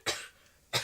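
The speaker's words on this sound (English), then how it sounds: "I've got a cough." Two short, breathy coughs about half a second apart, close and fairly loud, with no talking.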